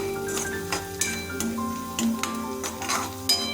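Sliced onions sizzle and fry in a pan for a Bengali potol chingri (pointed gourd and prawn) dish, with a steady crackle broken by several sharp scrapes and knocks of a spatula stirring them, close and fairly loud.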